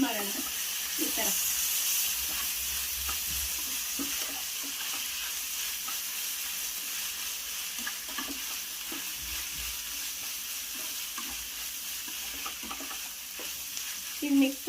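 Egg fried rice with vegetables and a tablespoon of soy sauce being stirred in a pan, a steady soft sizzle with scattered scraping and clinking of the spoon, continuous and moderately close, no talking.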